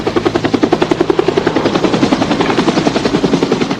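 A military helicopter airlifting the mortally wounded from a battlefield near Cu Chi beats steadily and loudly, its rotor chop thudding in a fast, even rhythm throughout.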